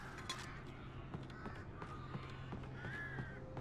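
Crows caw repeatedly in the Alan Wake video game, several harsh calls spaced through a steady low ambient hum, moderately distant and fairly quiet.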